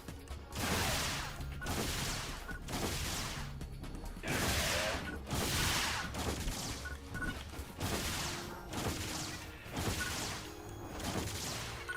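Rifle gunfire in Phantasy Star Online 2 New Genesis comes as repeated bursts of sharp shots roughly every second, loud and close, with game effects layered between.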